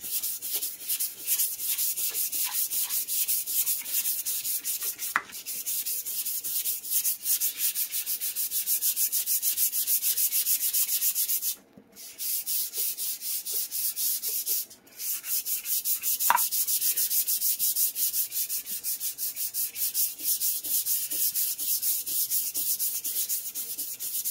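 Continuous rasping of sandpaper on wood, steady back-and-forth rubbing that keeps going, with two brief pauses where the scraping stops before resuming.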